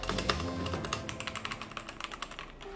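Rapid typing on a Ziyoulang K3 98-key mechanical keyboard with red switches, a steady stream of close, crisp key clacks with uneven rhythm and no voices.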